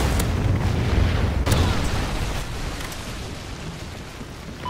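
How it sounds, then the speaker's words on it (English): A Trinity rocket strike from Call of Duty: Ghosts bursts with a loud, deep explosion at the start, a second sharp blast around the middle, and a rumbling, debris-filled roar that fades slowly. "Friendly Trinity rocket inbound."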